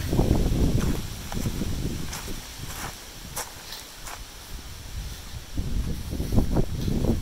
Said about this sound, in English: Those gusts are really picking up.